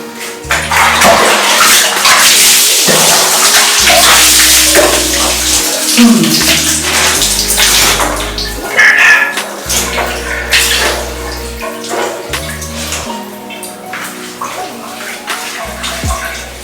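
Water splashes and pours while someone bathes with a papaya laundry soap, steady close sloshing and running water throughout with some louder splashes and low thumps.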